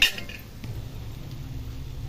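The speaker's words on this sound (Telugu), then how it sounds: "పచ్చిరేలు వేస్తున్నాను." Raw prawns go into a cooking pan for a prawn curry with a sharp metallic clatter at the start, followed by a soft, low, steady hiss from the pan with no voices.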